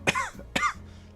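A person with a lingering cold coughs twice in quick succession, each a sharp, close, throaty burst with a rasping tail.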